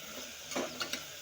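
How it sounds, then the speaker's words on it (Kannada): Tomato and potato fry together in a pan for cabbage pulao with a quiet, steady sizzle. A few soft clicking stirs of the spoon sound close by, and nobody speaks. "ಈಗ ಟಮಾಟಿ ಬಟಾಟಿ ಎರಡು ಸೇರಿ ಹಾಕೊಂಡೆ ನೋಡ್ರಿ. ಫ್ರೈ ಆಗ್ಬೇಕ್ರಿ"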